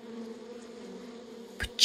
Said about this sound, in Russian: Пчелы жужжат.